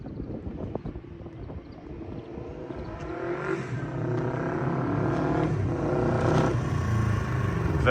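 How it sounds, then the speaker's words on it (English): Honda CB450 K0/K1 motorcycle engine revving up, a steady mid-pitched drone that rises in repeated throttle blips over about eight seconds, close and fairly loud with no talk. "sound is really cool for such a light bike"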